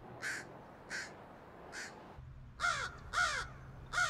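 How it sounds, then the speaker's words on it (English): Six harsh crow caws, three then three, spaced about half a second apart with slight pauses, clear and fairly close against faint background noise. "scientists have identified over 250 distinct crow calls"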